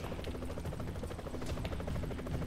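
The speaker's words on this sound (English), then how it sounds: "I hear the helicopter." A helicopter in the Broforce video game, its rotor giving a steady rapid chopping whir that stays loud and constant throughout with no talk.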